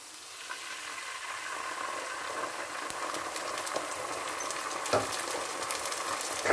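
Onions browned in oil sizzle in a pan with tomato paste, a steady close crackling hiss with scattered pops and the occasional scrape of stirring.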